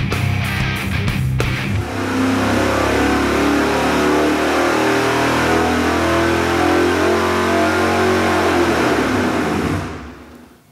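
A supercharged small-block Chevy GM crate motor with a 671 blower and dual quads revs hard on a dyno, a loud sustained roar with a few sharp blips at the start before holding steady and cutting off near the end.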